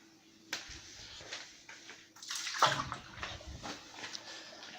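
Water from a dispenser pours into a jug, a soft splashing trickle that swells briefly toward the middle, quiet and close with faint clicks around it.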